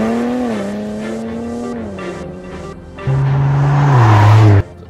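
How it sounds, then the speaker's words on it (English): Infiniti Q60 Red Sport with the VR twin-turbo V6 revs loudly and close, its engine note climbing and falling in smooth sweeps before a harder, louder surge near the end that cuts off abruptly. "that VQ engine on the G35 or G37 sounds amazing in my opinion"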